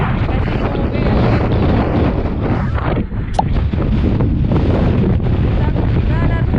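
Strong, steady wind roars continuously across the microphone on an open road in Patagonia, a loud unbroken buffeting that fills the whole clip with only a brief dip in the middle.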